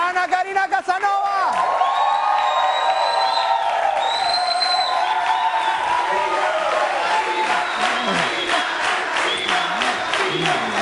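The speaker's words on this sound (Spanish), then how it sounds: "¡Recibamos con un fuerte aplauso a Ana Karina Casanova!" A studio audience on a Venezuelan talk show cheers, whoops and applauds loudly for an arriving guest, with music and voices mixed into the steady crowd noise throughout.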